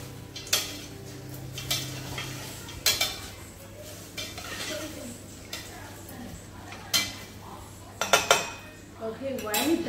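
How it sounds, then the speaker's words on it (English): A utensil stirs olive oil in a pot on a stove, giving intermittent scraping clinks and metal knocks against a low steady hum, with some quiet background voices. "We stir it."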